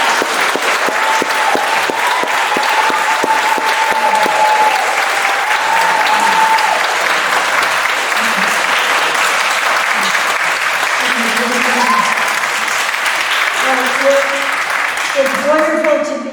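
Sustained audience applause at a candidate forum, loud and steady throughout, with voices and crowd murmur mixing in toward the end.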